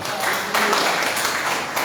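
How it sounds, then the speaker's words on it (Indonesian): A church congregation claps in a brief burst of applause, moderately loud and close, with a slight surge partway through. "Ya, beri tepuk tangan buat Tuhan."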